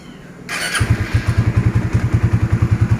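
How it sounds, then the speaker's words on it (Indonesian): A Suzuki motorcycle engine idling with engine flush in the crankcase: after a brief start-up burst, it settles into a loud, steady low thumping pulse at an even rhythm, close by. "Kita running lagi kurang lebih 15 menit, posisi idle aja, jangan naikin RPM."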